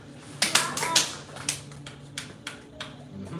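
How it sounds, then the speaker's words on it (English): A few sharp hand claps ring out in a martial arts class, spaced irregularly over a faint background of room noise and distant voices. "clap."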